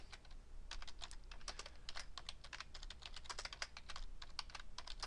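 Rapid, steady typing on a computer keyboard, close and fairly quiet, with clustered keystrokes running throughout and no voices.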